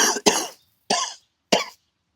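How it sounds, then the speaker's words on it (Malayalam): Four sharp coughs from one person, close and fairly loud: a quick pair, then two single coughs with short silent gaps between them. "ചുമക്കുന്നുണ്ട"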